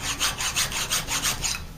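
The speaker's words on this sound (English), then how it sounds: "The corners, we want to basically file the corner out a little bit, just enough to make it a little round corner." A hand file rasps across the corners of a mower blade washer from a Kubota BX deck, steady rhythmic back-and-forth strokes, loud and close, with no voices.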